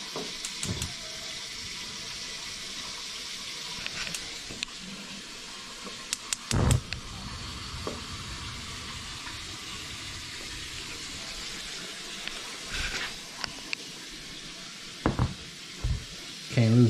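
Water boils and bubbles in a pot to heat a car part for fitting an ATI super damper on an '88 Civic hatch, a steady hissing bed with occasional knocks and brief voices.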